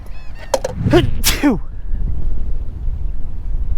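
A single sharp sneeze bursts out close to the microphone on an island shore, followed by quiet wind and outdoor rumble.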